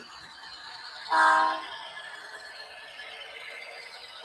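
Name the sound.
model train locomotive running on a loft layout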